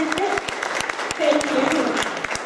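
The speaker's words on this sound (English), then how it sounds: "Yes, please give the chamber a good round of applause." Audience applause at a town hall meeting in Conifer, steady clapping through the whole stretch with some voices murmuring and talking underneath.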